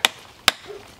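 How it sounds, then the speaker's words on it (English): A survival axe used as a hammer drives nails outdoors at a camp, giving two sharp, close metallic strikes about half a second apart, then a fainter tap. "the iunio survival axe to hammer in a few nails"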